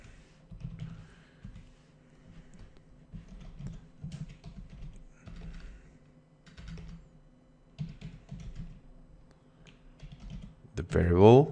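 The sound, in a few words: typing on a computer keyboard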